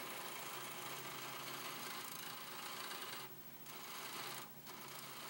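A wood lathe turns spindles for a round top entry table, giving a steady whirring hum with a broadband rasp as the tool cuts. The cutting noise drops away briefly twice near the end.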